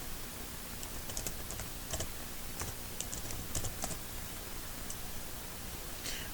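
Typing on a computer keyboard while entering text into an Excel chart, a run of quick, light key clicks in irregular bursts over a constant hiss of background noise, with no talking.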